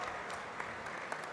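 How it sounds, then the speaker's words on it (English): Audience applause at a student parliament gathering, heard as a brief, faint wash of steady clapping with no other sound. "Please put your hands together and welcome with a round of applause Shubham Chauhan from Maharashtra."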